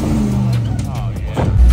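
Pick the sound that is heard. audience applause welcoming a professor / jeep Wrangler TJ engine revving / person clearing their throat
jeep Wrangler TJ engine revving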